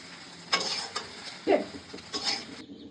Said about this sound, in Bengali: ডিমটা ঠিক যখন এরকম একটু লাল লাল করে ভাজা হয়ে যাবে তখন একটি পাত্রে তুলে নেব।